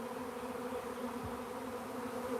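A live honeybee swarm buzzes steadily and loudly close by, a dense continuous drone with no break or change throughout.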